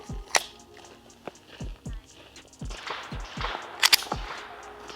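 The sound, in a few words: pistol slide being racked to chamber a round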